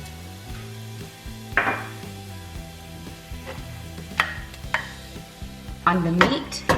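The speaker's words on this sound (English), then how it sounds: "now the oil is ready and I'm just going to add in the cumin seeds" Cumin seeds sizzle in hot oil in a pot for lamb biryani, a steady close crackle under intermittent utensil scrapes and clinks, getting busier near the end.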